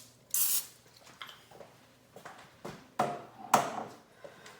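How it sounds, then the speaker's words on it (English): Cooking spray hisses from a can onto a stoneware baking pan being greased for homemade cinnamon rolls, in several short bursts, the first long and the later ones sharper, with soft knocks and handling sounds between them. "we're gonna spray the bottom and the sides with cooking spray so they don't stick"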